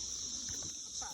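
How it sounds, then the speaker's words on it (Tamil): Cicadas buzz in a forest as a dense, continuous high-pitched drone that stays loud and steady for the whole second, with faint sounds underneath. "சில்வண்டு அதிகமாக இந்த காட்டுக்குள்ளே வந்திருக்கு"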